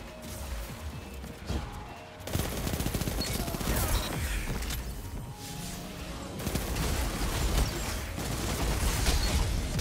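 Submachine gun fire in Destiny, rapid sustained bursts of automatic shots in close succession, broken by short pauses and growing denser toward the end amid other game noise.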